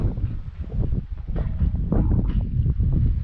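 Steady wind buffets the microphone with gusty, rumbling noise throughout, loud and close, with no other clear sounds, in the ghost town of Belmont, Nevada.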